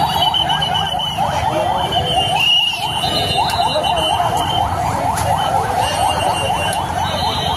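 An ambulance siren wails in a repeating rising-and-falling cycle, loud and steady over a dense hum of street traffic, with other horns cutting in briefly.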